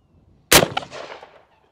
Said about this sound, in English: Moving up to the Gold Scar, shooting around a 308.